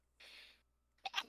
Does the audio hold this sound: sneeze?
yes